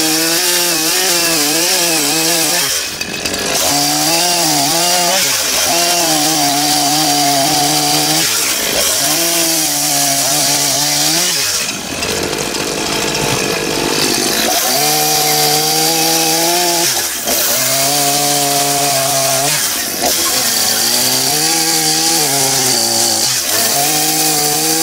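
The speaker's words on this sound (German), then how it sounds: "mit der Kettensäge noch anspitzen" A chainsaw roars loudly and almost continuously as it sharpens a wooden post to a point, its pitch dipping and rising as it bites into the wood, with a few brief drops between cuts.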